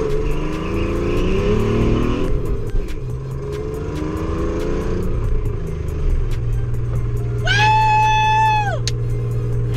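Car engine revving up and down through the gears of a manual transmission, loud close engine drone with rising and falling pitch sweeps and a high whine near the end.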